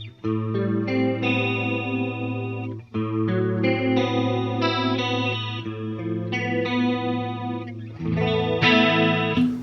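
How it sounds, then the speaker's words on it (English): A clean electric guitar runs through an Eventide H9 stereo effect, playing ringing sustained chords and arpeggiated notes with a shimmering chorus-like wash and repeated phrasing, alone and without voices. "in and out of the Eventide H9. So now you're hearing this left and right."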